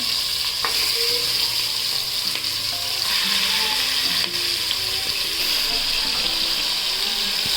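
Washed mutton pieces sizzle steadily in hot oil with onion and turmeric, a loud continuous frying hiss with scraping and stirring clatter throughout, no voices.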